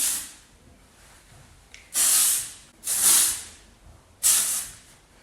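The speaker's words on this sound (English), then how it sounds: "Just gonna like spray it." Three bursts of hairspray hiss close by, each lasting under a second with short pauses between, over a quiet background.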